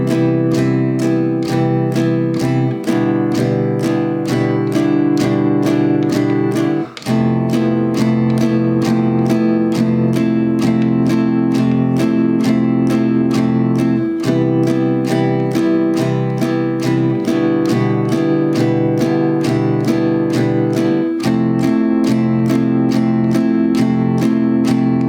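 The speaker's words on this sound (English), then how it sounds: "So slowed down, the entire riff will sound like this." Acoustic guitar strumming a song's riff at a slowed tempo, steady rhythmic strokes with ringing chords, loud and close, alone without any voice for about 25 seconds.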